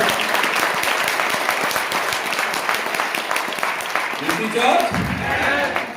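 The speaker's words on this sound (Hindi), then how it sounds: "तालियां बजा दो एक बार, दम लगा के" Audience applause at a direct-selling business meeting about RCM products, a dense steady clapping crowd filling the room, fairly loud throughout, with a brief voice rising near the end.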